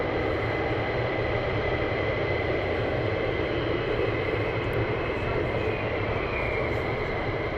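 Military jets taxi at RAF Lakenheath, a steady broad engine roar and whine holding at constant loudness throughout without a break.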